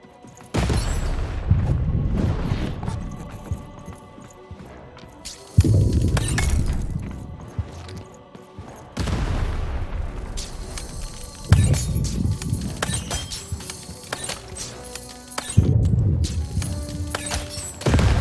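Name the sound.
cannon firing and shattering in Lost in Random video game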